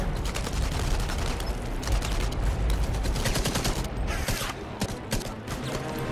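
Sustained gunfire from the World War II shooter game Enemy Front, a dense run of rapid shots and bursts that overlap into a continuous, loud barrage with mechanical clatter, and no talking over it.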